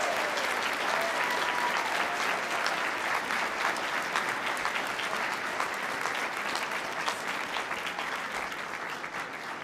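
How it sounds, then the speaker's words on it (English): A large audience at a South Texas College of Law commencement ceremony gives a long, steady round of applause, heard as an even wash of many hands clapping at moderate distance. "please join me in a huge, loud round of applause for your families, your friends, everyone who made today possible."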